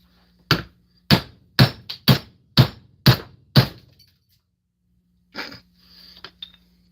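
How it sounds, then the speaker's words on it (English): A hammer taps a socket through a part in seven sharp, evenly spaced metallic strikes, close and loud, followed by a pause and a couple of softer knocks and scrapes. "Use my trusty old hammer."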